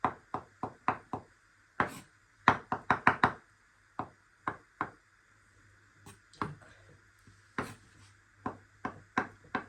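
A knife chops ingredients for a crab salad on a board, sharp distinct knocks in quick irregular bursts with short pauses between runs, close and clear in a quiet kitchen.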